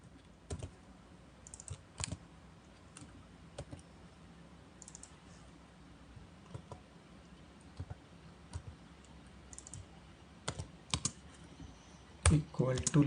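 Scattered keystrokes on a computer keyboard while an SQL query is typed, quiet and irregular with brief pauses, ending in a denser burst of clicks.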